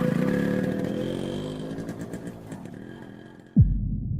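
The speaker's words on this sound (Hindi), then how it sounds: "भगवान का नाम लेकर बाइक में किक मारना शुरू किया। बाइक स्टार्ट हो गई।" A motorcycle engine throbs and rumbles steadily, gradually fading as if moving away, then cuts off with a sudden low thump near the end. No one speaks.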